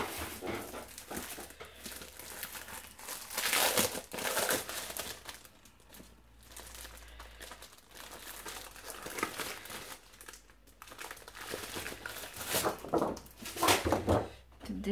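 Scrapbooking paper is handled and crinkled at a craft table, giving steady rustling and crumpling close by over about fifteen seconds, with occasional sharper crinkles and a faint dog whimper in the background.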